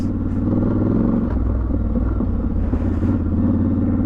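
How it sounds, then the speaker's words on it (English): Motorbikes, including a Triumph Scrambler 1200 XE, on an off-road moorland trail, a steady loud engine rumble close by that swells and fades slightly as they pass, with no talk. "And we've got some bikes, boys."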